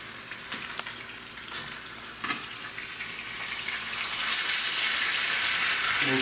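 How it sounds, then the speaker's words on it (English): Beef for a roast sears in a hot pan with a broadband hiss that swells louder over the final two seconds, broken earlier by a few sharp crackles and pops. "We'll sear all four sides. Searing up the meat, searing up the meat."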